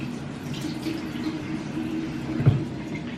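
Water runs steadily from a bathroom sink tap while a flannel is wetted for washing the face, a soft continuous trickle with one brief splash near the end.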